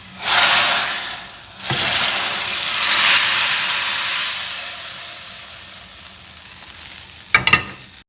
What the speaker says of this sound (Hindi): और ये चले गया बहुत मज़े का ज़बरदस्त सा बघार